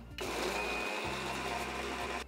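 A kitchen mixer grinder coarsely grinds onions, whirring loudly at a steady pitch, starting abruptly, dipping for a moment, then running on before cutting off.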